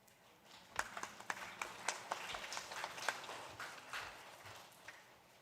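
A church congregation claps together at a Sunday service, starting from quiet into a rhythmic, moderately faint round of clapping that holds steady and then eases off.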